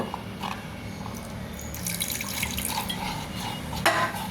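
Water is poured into a bowl of sour yogurt in a home kitchen, giving a soft splash and trickle with a few light clinks near the end, close by and fairly quiet.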